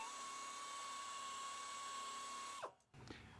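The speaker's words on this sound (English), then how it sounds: "We're going to get ready to buff that area down, so it'll be one surface for the patch to bond to." High steady whine of a buffing tool grinding down the inner rubber surface of a tire for a patch repair, running continuously and loud, then cutting off abruptly near the end with a brief rattle.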